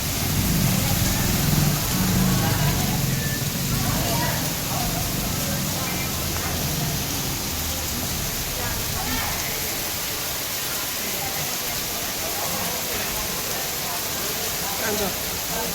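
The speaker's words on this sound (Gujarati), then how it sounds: "વરસાદે કેવો છે આજ તો?" Heavy monsoon rain pours down as a steady, dense roar that fills the whole stretch, with people talking faintly beneath it.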